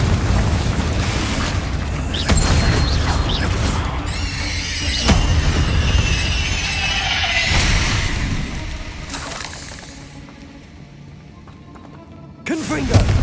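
Confringo blasting-spell explosions from Hogwarts Legacy burst in loud, booming hits over a dense battle din, several blasts rolling across the stretch with shouted incantations and voices throughout.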